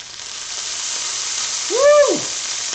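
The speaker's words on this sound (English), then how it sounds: "Hear that sizzle?" Ponzu sauce hits a hot pan with a steady bright sizzle and hiss, loud and close, with a brief rising and falling squeal near the end.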